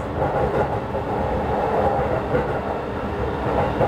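A JR East Shonan Liner commuter train bound for Odawara rolls steadily along the rails, a continuous low rumble with faint rhythmic clatter, heard from inside and fairly loud throughout.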